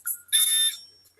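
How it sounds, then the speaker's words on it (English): Small buzzer in a simple battery circuit with touching metal contacts gives a short high-pitched electronic beep, then a longer steady tone of about half a second, close and clear. "when the two metals touch, the circuit is completed and the buzzer should go off."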